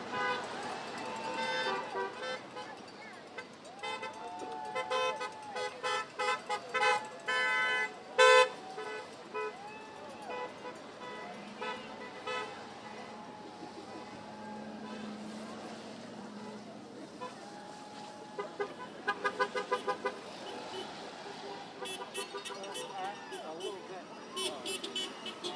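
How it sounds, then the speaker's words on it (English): Car horns toot repeatedly at varied distances as vehicles drive past a No Kings protest of over 1,000 people in Pepper Pike, Ohio, with crowd cheering and a reporter talking over the scene. "watch as people are cheering and cars driving by"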